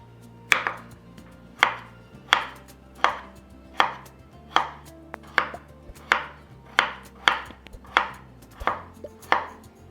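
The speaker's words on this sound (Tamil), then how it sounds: "நான் நறுக்கி தான் போட போகிறேன்" A knife chops steadily through pumpkin on a board, cutting it into small pieces, about a dozen crisp, evenly spaced strokes with no talking.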